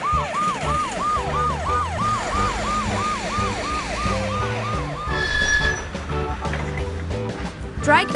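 A police car siren from a video game wails in a fast, repeating up-and-down cycle over busy game music, fading out midway as other synthetic effects take over.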